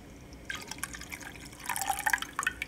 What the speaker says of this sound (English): Then we're going to go ahead and add our cornstarch water mixture for thickener.